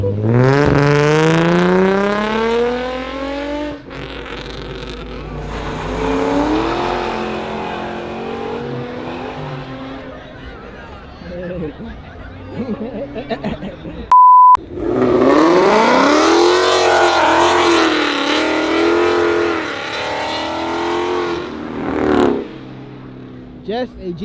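Cars rev hard and pass at a 7-Eleven car meet in Raleigh, North Carolina, with rising engine notes accelerating, passing close and loud, then a second burst of heavy revving after a brief cut.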